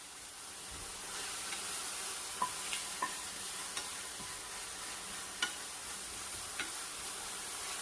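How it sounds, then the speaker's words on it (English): Purple lady bok choy cooks with soy sauce in a pan over lowered heat, a soft, quiet sizzle broken by scattered small clicks and taps of stirring. "Now I'm going to go ahead and add the purple lady bok choy in."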